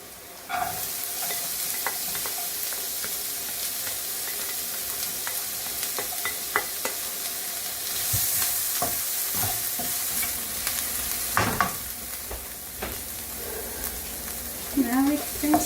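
Onion sizzling steadily in a hot pan for Ilocos empanada filling, with a spatula scraping and tapping repeatedly as it is stirred, close and continuous.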